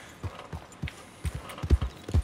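A horse's hooves clop in Red Dead Redemption 2, a few uneven, moderately close thuds at a slow walking pace with no talking.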